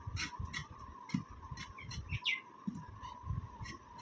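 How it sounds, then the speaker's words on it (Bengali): Small birds chirping and calling at a house window, a series of short, bright tweets repeating near and clear over low background household noise and a steady hum. "পাখিগুলো ডাকছে কি করে"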